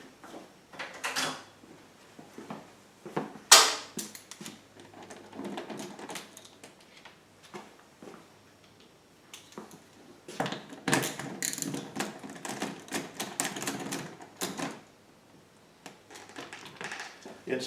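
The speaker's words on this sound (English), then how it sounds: "Use an 8mm socket to pull the 3 side cover bolts out." Scattered metallic clicks, ratcheting and rattles as an 8mm socket wrench backs out the three side cover bolts on a Pulsar generator, close and intermittent with quiet gaps between bursts.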